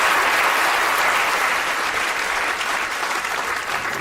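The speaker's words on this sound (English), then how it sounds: "Give them a big round of applause for keeping track there." Audience applause at a science lecture, a dense and steady wash of many hands clapping that stays loud and fills the whole four seconds without any voices on top.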